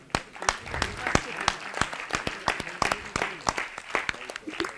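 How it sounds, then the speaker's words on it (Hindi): An audience at a cultural festival in Bhopal claps in a crowd, producing sharp, scattered claps that carry on steadily for several seconds at moderate distance. "जोरदार तालियों के बीच में"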